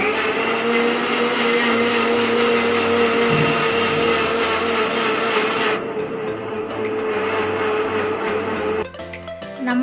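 A kitchen mixer grinder blends thick milk with four bananas for avil milk, a loud, steady motor whine and churning close up that runs for several seconds, then drops in pitch before cutting off with a rattle.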